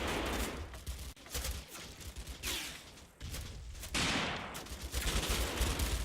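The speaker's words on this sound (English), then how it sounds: "small arms and MG fire are starting to take effect on my opponent's forces" Small arms and machine gun fire in the Combat Mission: Fortress Italy wargame, with dense, continuous rattling bursts and scattered shots layered over a steady rumble, loud throughout with brief dips between volleys.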